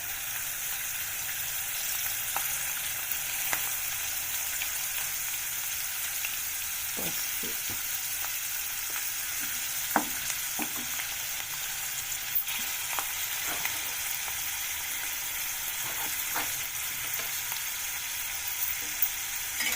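Green chilies fry in oil with a little turmeric for a tangy sesame chutney, giving a steady, even sizzle throughout with faint occasional clicks of stirring.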